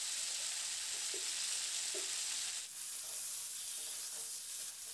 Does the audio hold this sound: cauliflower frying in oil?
yes